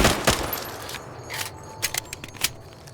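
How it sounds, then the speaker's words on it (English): A gun is reloaded in the video game Fallout New Vegas, after a burst of loud gunfire, with a series of sharp mechanical clicks and clacks close up. "I love the reload for this gun."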